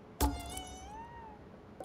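A single cat in the video game GhostWire: Tokyo gives one drawn-out, rising-then-falling meow after a sharp thump, heard close and clear with no talk.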